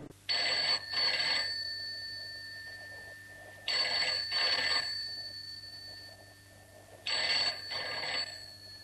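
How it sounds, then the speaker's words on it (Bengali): A telephone rings in a Bengali audio drama, sounding three evenly spaced double-rings with quiet pauses between, clear and close with no voices. "দাঁড়া, ওই গড়াইকে একটা ফোন করি"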